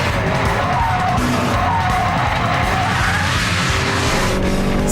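A UK-market Honda Civic Type R with 222 bhp driven hard on a race track, a loud, steady engine roar with tyre squeal and rushing noise that holds at full intensity throughout.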